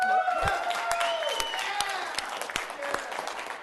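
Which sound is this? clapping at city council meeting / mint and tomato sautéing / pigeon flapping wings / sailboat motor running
clapping at city council meeting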